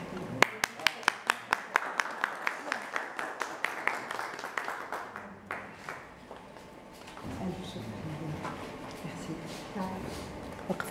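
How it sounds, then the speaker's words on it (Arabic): Audience applause in a theatre at Sindiana, opening with sharp individual claps that soon blur into a steady patter of clapping, with talking and room murmur continuing underneath toward the end. "تصفيقة."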